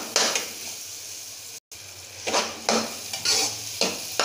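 Semolina roasting in ghee in a pan, stirred with a spoon: soft sizzle under scraping strokes, a short break, then several more stirring scrapes, close up with no voices.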